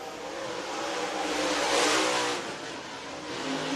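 Dirt track race cars at Lake Cumberland Speedway in Burnside, Kentucky roar steadily as a pack, a loud dense engine wash that swells to a peak midway and then eases slightly.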